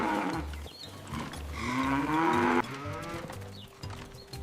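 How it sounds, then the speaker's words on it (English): Cows in a cowshed give long, drawn-out moos, near and fairly loud, over a low murmur of barn noise, with no talk. "Look around, all the cows are very happy."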